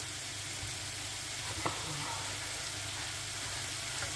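Sofrito with chopped eggplant sizzles in a frying pan, a steady broadband hiss of frying that holds evenly throughout, close by, with a faint clink partway through and no speech.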